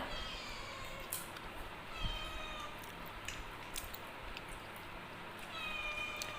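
A cat meows a few times, thin drawn-out cries rising over a steady background hiss, close by and with no talking.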